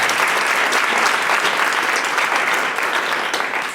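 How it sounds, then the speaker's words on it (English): Audience applause at a grant announcement event, a dense, steady wash of many hands clapping that holds at full strength throughout and eases only slightly near the end. "And I think that deserves a round of applause,"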